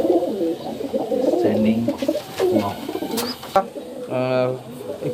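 Andhra and Fulsira breed pigeons cooing in a loft, a low rolling coo heard close by, mixed with someone talking.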